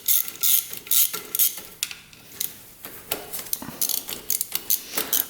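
Metal clicks, ratcheting and tool clatter come from work on a modded race quad engine as its cam chain tensioner is unbolted and removed, with close, irregular bursts of mechanical clanks throughout.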